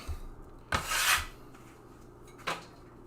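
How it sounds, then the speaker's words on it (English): A bench scraper scrapes chopped onions up off a cutting board, making two short scraping sweeps at close range, the first longer and louder, over a quiet background with no talk. "I love this bench scraper for exactly this reason. Just getting ingredients up off the board."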